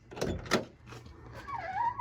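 A car door on an older vehicle opens with two quick knocks from the latch and handle, followed by a softer creak as it swings, heard up close with no talking.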